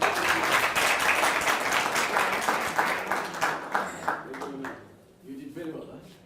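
An audience at an African Renaissance Unity meeting claps in a dense burst of applause that fades out, with voices speaking as it dies away.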